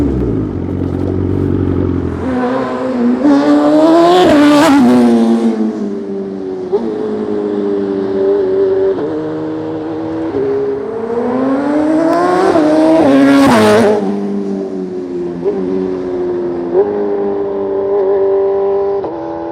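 A 2021 BMW S 1000 RR sportbike fitted with an SC Project exhaust, headers and mid-pipe, roars past twice, its engine note climbing hard as it accelerates, then a steady revving drone between passes, loud and alone with no talk.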